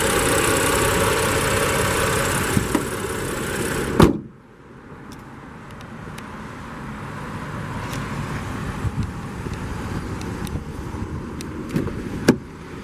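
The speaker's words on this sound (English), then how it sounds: "is equipped with BMW's 3-liter turbocharged 6-cylinder. This is the twin power turbo engine." BMW X5 with a 3-liter turbocharged six-cylinder engine idling, a loud broad drone that cuts off sharply partway, followed by quieter cabin ambience with light clicks and taps.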